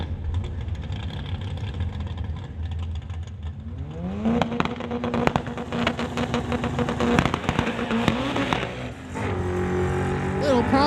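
A Honda Civic drag racing down the quarter mile at a Real Street event, later hit by mechanical problems: loud, close engine revving climbs in pitch with sharp crackles and pops, then falls off and surges again.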